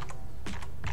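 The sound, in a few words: typing on a computer keyboard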